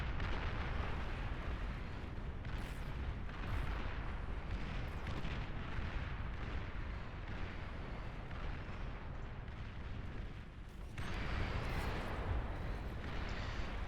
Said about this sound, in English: And we have ambassadors shooting.